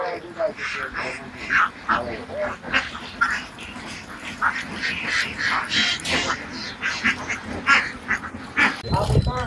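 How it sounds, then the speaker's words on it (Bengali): Khaki Campbell ducks on a duck farm, out grazing in a field, quack in repeated bursts throughout while someone talks over them. "খাকি ক্যাম্বল জাতের হাঁস দিয়ে ওনারা হাঁসের খামার করে"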